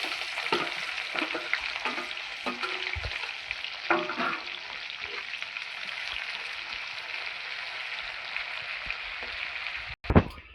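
Onions frying in hot oil for biryani give off a steady, dense sizzle that stays even throughout and ends with a sharp clatter near the end.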